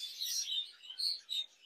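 Caged budgerigars chirp and tweet in quick high-pitched bursts, several calls overlapping, fairly close and alone without any talking.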